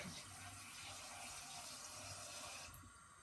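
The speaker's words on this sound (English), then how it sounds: "Get some water from the sink." Water runs from a kitchen sink tap into a cooking pan, a steady close hiss of filling that holds for about three seconds with no voices.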